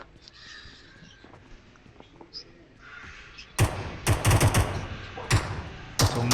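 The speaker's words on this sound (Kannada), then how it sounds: "ಸುಮ್ಮನೆ ಮಾಡ್ತಾರೆ ಬಾಟ್ ಫೈರ್" Gunfire from computer-controlled bots in the battle royale game BGMI on the Livik map: after a quiet stretch, sharp loud shots arrive in several quick bursts and single cracks.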